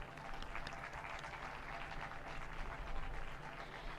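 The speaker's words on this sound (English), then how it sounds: "Ladies and gentlemen, please join me in applauding the fine performances of these award winners." Steady applause from a large convocation audience at the World University of Design for award winners, a dense, even wash of many hands clapping at moderate distance for about four seconds.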